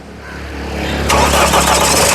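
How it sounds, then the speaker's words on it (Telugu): A 2015 Mahindra XUV500 W8 engine cranks and catches about halfway through, settling into a loud, steady idle rumble close by. "ఒకసారి కారు కూడా స్టార్ట్ చేసి చూపిస్తున్నాను"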